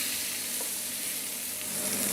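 Foie gras searing in a hot pan gives a steady, loud, close sizzle and spitting hiss that holds unbroken throughout, with no voices.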